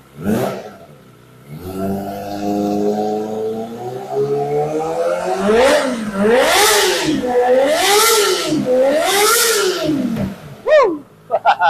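A Kawasaki ZX25R motorcycle with an underbelly racing exhaust revs up in a long rising howl, then gives three sharp throttle blips that surge and fall, ending with a few quick pops.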